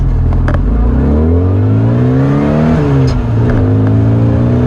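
A 1992 Rover Mini Cooper SPI with its 1.3 engine accelerates hard, loud and close, the engine note climbing steadily through the gears with a brief dip at each shift and no talking.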